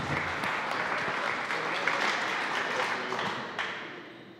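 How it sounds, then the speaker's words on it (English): Audience applause for speakers on stage at a startup event, a dense, steady wash of clapping that thins out toward the end. "let's give our speakers another round of applause for being on stage with us"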